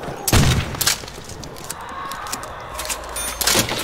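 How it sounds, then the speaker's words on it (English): A trench shotgun fires in Call of Duty: World at War Zombies, loud close blasts near the start and again near the end, with rumbling game noise between. "Trench gun's only good for so long"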